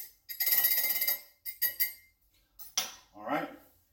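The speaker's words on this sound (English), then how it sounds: "and then I was just going to stir it up" A spoon clinks against a container while stirring a Pereg spice blend, with a long scraping swirl followed by a few short taps and a brief rustle, close and fairly loud, no talking.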